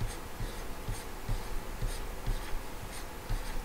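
Chalk or marker strokes on a board during a university class, a series of quick rhythmic scratching taps repeating about twice per second, close and fairly faint against room noise.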